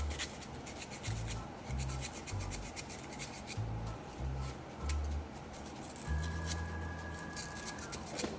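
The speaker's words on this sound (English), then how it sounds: "just take a piece of sandpaper, about 120 grit's good, just enough to get a scratch on them" 120-grit sandpaper rubs back and forth over pen tubes in a steady, close scratching rasp, with repeated low strokes and no talking.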